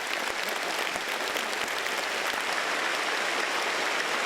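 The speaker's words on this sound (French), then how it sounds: "Ces applaudissements sont une expression de résonance, de réponse et de salutation." Sustained audience applause fills a large hall, dense and steady clapping from a big crowd at an official gathering, with no voices over it.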